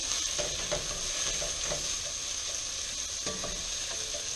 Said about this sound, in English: The onions are getting nice and brown without burning.